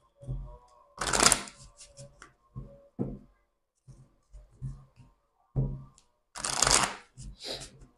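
Oracle cards being shuffled by hand for a reading, two bursts of crisp riffling with soft taps and card handling between them, close and clear with no talking.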